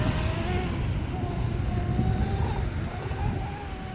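An M500 Mini Mono RC boat runs on the water under 3S lipo power, its electric motor giving a steady, continuous whine with waves and wind rushing beneath it.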